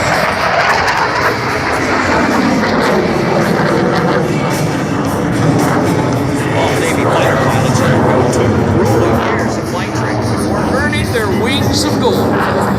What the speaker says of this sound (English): F-18 demonstrate the maneuver known as the double Immelman